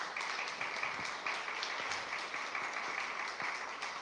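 An audience at a university book presentation on intersex voices in Mexico claps for a speaker, a steady, moderately loud wash of applause that lasts about four seconds with no one talking.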